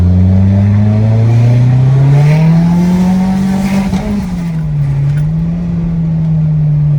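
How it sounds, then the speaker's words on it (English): Mitsubishi Lancer Evolution engine revving hard under acceleration, a loud close drone climbing steadily in pitch, then stumbling and wavering briefly as boost cut hits before holding on. "I think we hit some kind of boost cut there."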